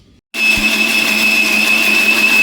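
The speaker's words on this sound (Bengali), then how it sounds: "ওই পেঁয়াজ কলিগুলো হয়েছিল ওগুলো বেটে নেব পাঁচ ফোড়ন আর অল্প গোটা জিরে এগুলো একসঙ্গে বেটে নেবো" Mixer grinder running steadily at full speed as it grinds onion shoots, panch phoron and whole cumin, starting abruptly after a short silence with a loud, continuous high whine and motor hum, no voices.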